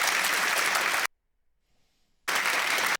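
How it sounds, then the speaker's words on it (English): A studio audience breaks into loud, dense applause that cuts off abruptly into near silence, then the clapping resumes just as strongly. "is the audience clapping"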